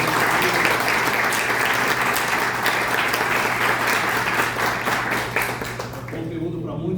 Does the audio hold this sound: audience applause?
yes